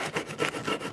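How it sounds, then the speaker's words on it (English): A knife sawing back and forth through a pizza in a woodland cabin, rapid rhythmic rasping strokes, close and fairly loud with no talk. "Why are you sawing it like it's some kind of log?"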